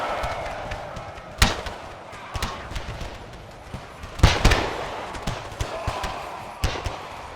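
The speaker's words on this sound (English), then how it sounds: "Listen to the pop of the guns." Musket volleys in Napoleon Total War, a battle between Sweden and Prussia, pop in scattered, irregular cracks, a couple of them sharply louder, over a low battlefield murmur.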